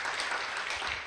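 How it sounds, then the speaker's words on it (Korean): Church congregation applauding a worship team at a Korean Friday service, a brief burst of dense, steady clapping with no talk over it. "김은 목사님과 7교구 찬양팀 우리 감사한다고 격려하는 마음으로 박수 한번 올려주겠습니다"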